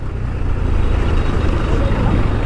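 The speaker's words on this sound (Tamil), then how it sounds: "எவ்வளோ டிராஃபிக்னு" City road traffic rumbles in a dense, continuous low roar of car, truck and bus engines close by, with no clear single vehicle standing out.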